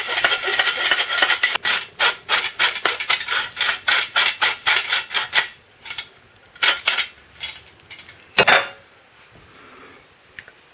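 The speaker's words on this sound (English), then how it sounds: "So I'm just going to stir our dry ingredients" A spoon stirs sifted flour and dry baking ingredients in a bowl, clinking against the sides in a quick regular rhythm of close taps, then slowing to a few scattered scrapes and one louder knock.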